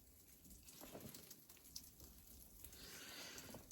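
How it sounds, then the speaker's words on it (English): Quiet winter rain patters steadily on the Appalachian Trail, a soft hiss of drops with occasional closer splashes. "It's raining right now."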